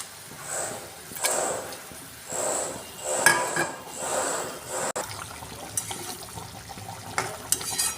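A spice bowl is rinsed and water is poured into it in a home kitchen where fish is being cooked. Splashes and clinks of the bowl come in several short bursts, close by.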